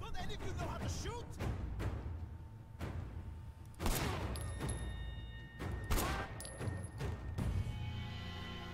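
Gunshots in the action game Sleeping Dogs crack out as a series of sharp bursts and volleys at uneven intervals, with shouted voices heard between the shots.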